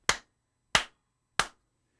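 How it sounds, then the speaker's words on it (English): Three sharp hand claps in a room, evenly spaced about two-thirds of a second apart, each crisp and alone with a short decaying tail before silence. "after you clap, you hear this like kind of sound, that's called bounce back"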